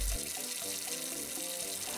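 A household tap runs steadily, a close, continuous stream of water splashing into a basin, with no speech.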